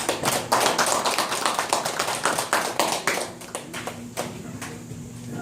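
An audience at a forum lecture claps and applauds, loud at first with many hands, then thinning out to scattered claps toward the end.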